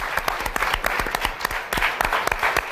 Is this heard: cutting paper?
no